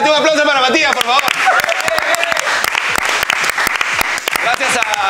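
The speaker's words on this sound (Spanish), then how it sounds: "Un aplauso para Matías, por favor." Audience applause for a guest named Matías at a comedy awards show, dense sustained clapping from a crowd with voices mixed in throughout.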